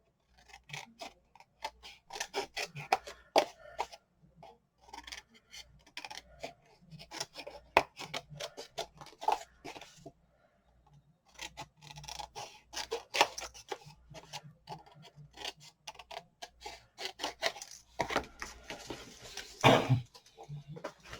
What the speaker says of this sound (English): you want to go in and you want to cut your corners and then miter them